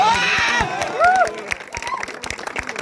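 A student crowd at an IIT (ISM) Dhanbad election campaign event breaks into cheers and shouts, with scattered clapping that thins out and fades over a few seconds.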